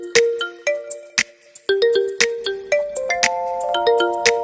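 A bright, melodic electronic chime plays a quick sequence of ringing tones, each note sustaining and overlapping the next, clear and alone.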